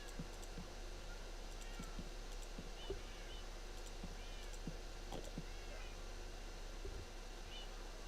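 Several cats meow in the Minecraft video game, short rising mews scattered at moderate volume over a soft ambient game background.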